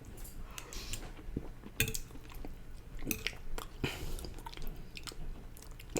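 Close, soft chewing of chili cheese fries comes in irregular wet bites and crunches, with occasional faint clinks of cutlery.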